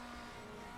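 A race car in a racing video game, on track at VIR, holds a steady, fairly loud engine drone under full throttle for a brief moment, with no voices.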